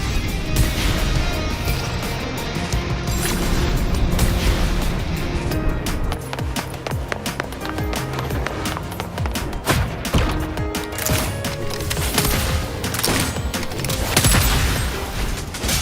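Video game combat gunfire forms a dense, continuous clatter of many overlapping shots and impacts, loud and busy throughout with no pauses or talking.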